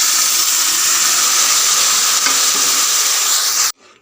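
Okra curry poured into a sizzling tempering of curry leaves and turmeric in a pan, a loud, dense, steady hiss that cuts off abruptly near the end, leaving a faint tail.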